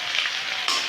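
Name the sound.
soybean and potato sizzling with onion and ginger paste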